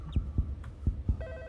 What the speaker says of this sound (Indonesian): Telepon lagi guys.